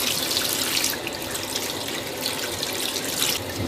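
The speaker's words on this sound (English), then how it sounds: "take these here taters and just kind of wash them off a little bit" Sweet potatoes are washed under a kitchen sink tap, a steady, close rush of running water splashing over the tubers with faint shifting as they are turned.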